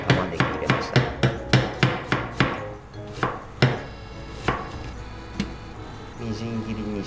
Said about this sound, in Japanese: みじん切りにして